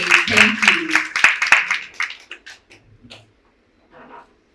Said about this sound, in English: please help me give her a warm round of applause as she comes to the stage